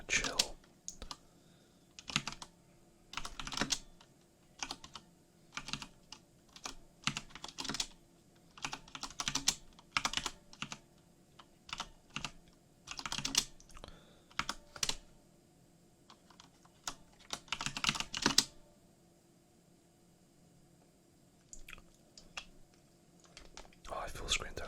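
Fingers type on a Corsair K95 keyboard with Cherry MX Speed switches, producing bursts of close, crisp key clatter separated by pauses, with soft whispering alongside.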